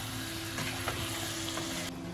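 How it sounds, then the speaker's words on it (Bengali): Boneless chicken pieces fry with tomatoes in a pan over a medium flame, giving a close, steady sizzle with light stirring scrapes, with no voices. "এবার আমি মিডিয়াম ফ্লেমে মাংসটাকে ভাজতে থাকবো।"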